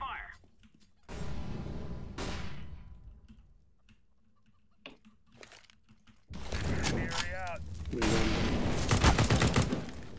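Video game gunfire and a flashbang grenade during a playtest of a custom map called Heatpipe: sharp bursts of shots and blasts come in clusters, with quieter gaps between them and players talking over the action.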